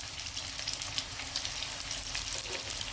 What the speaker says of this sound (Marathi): आता याला चांगलं खालून कलर येऊपर्यंत आपण याला भाजून घेणार आहे